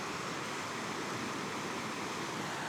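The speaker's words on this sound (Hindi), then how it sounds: "नीचे एक बड़ी खतरनाक सी नदी बह रही है।" Dangerous river rushing below a spot near an abandoned house in Japan, a steady, loud broadband roar of churning water with no breaks, heard alone.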